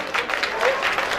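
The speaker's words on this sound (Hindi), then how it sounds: "थोड़ी ताली होनी चाहिए" Audience applause at a stage show, a steady wash of clapping lasting just over a second at moderate loudness, with no words spoken over it.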